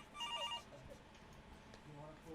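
A desk telephone gives a short electronic double-trill ring, fairly near and clear, then stops while quiet indoor room tone continues.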